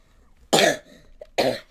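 A person coughs twice, close and loud, each a short harsh burst separated by a brief pause.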